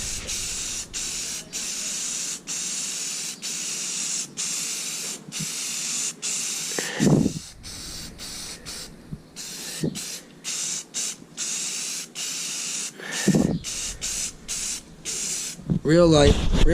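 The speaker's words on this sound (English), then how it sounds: "Now I'm putting 2 coats of this automotive primer." Gray automotive primer sprayed in light coats onto a P51 Mustang bass boat, a steady near hiss that keeps breaking off in short stop-start pauses, with faint talking now and then.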